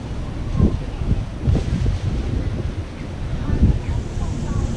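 Strong wind buffets the microphone at a small port in Freeport, Bahamas, with steady roaring gusts and low rumbles throughout, loud and close, with no talking.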